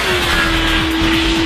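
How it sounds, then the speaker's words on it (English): A 2009 Kawasaki ZX-10R motorcycle engine roars steadily at speed on a track, loud and close with a sustained high whine and no voices. "First thing you notice just leaving the hot pit is the thing's got a stomping motor."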